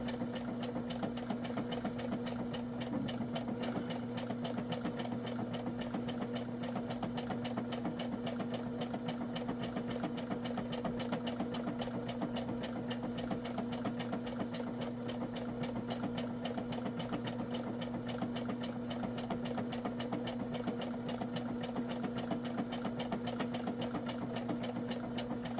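A Brother ES 725 sewing machine stitches fabric at a steady, fairly fast pace, its motor humming continuously with a fine, rapid mechanical clatter that stays even and close throughout, with no talking over it.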